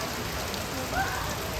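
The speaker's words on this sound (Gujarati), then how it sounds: "જોઈ લ્યો ગાઈસ આ વરસાદ આવી ગયો ફૂલ" Heavy rain falls at Baga Beach in Goa as a steady, dense hiss, with a brief faint tonal sound midway and no talking.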